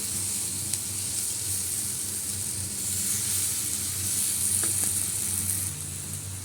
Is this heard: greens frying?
yes